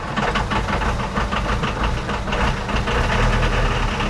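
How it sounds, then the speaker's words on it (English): A 50-year-old marine diesel engine running at idle, a loud, steady, rhythmic chugging knock with a deep low rumble that continues without pause. "let's start up this engine, which starts beautifully every time"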